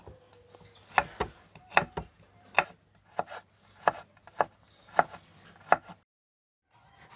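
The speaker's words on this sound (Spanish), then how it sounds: "Voy a picar el ajo." Garlic is chopped with a knife on a board: a dozen or so sharp, close, irregularly spaced chopping knocks, then a brief silence before a faint sound returns.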